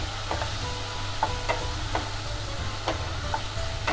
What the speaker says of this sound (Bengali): তো আমরা এখন খানিকক্ষণ এই মশলাটা কষিয়ে নেব হাই ফ্লেমে।